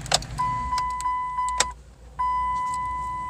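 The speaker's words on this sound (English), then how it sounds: "And I'll have this Dodge running. It's idling perfectly fine." A Dodge car engine idles after a throttle body relearn, a steady close hum with a few light clicks and knocks near the start.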